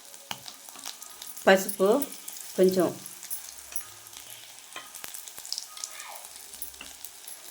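Small fish frying reddish-brown in a hot pan, a soft steady sizzle with a few louder stirring scrapes, while someone talks over it.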